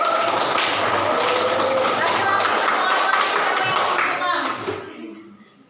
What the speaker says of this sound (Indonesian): Tepuk tangan buat April